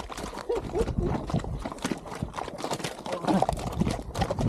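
Horse walking on a trail near Kolsai Lake, hooves clip-clopping in an irregular, close rhythm while people talk over the steps.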